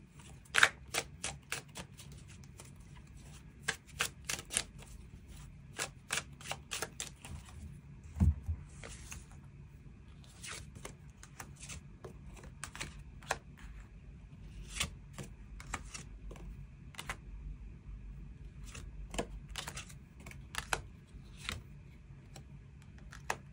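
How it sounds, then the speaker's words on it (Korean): Tarot cards are shuffled and drawn, producing quiet, close bursts of papery flicks and taps with scattered single snaps across a hushed room. "새로운 사람의 등장 가능성 언제쯤 있을지도 그 부분 추가 카드 뽑아보도록 하겠습니다"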